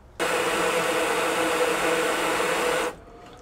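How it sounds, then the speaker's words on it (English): Small 12V water pump powered by a portable battery running to fill and pressure test an Alu Cab cabin water tank, a steady loud whirring hum that starts abruptly, holds for nearly three seconds and then cuts off. "pressure test the whole system using this Jackery battery and the pump"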